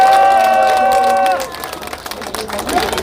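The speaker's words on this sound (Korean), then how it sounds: "박수 한 번 주겠습니다" Crowd applause and cheering at an outdoor election campaign rally in Yeonggwang, South Korea, loud and close, with a sustained tonal sound like a horn or whistle over the crowd before the noise settles into scattered clapping and murmuring.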